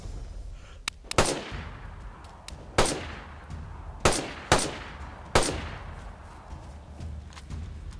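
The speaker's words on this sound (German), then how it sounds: "Ich schieße auf ihn." Gunshots from DayZ on PlayStation 5 in a firefight in Zeleno: about six sharp, loud reports spaced irregularly over several seconds, each with a short echoing tail, over a low background rumble.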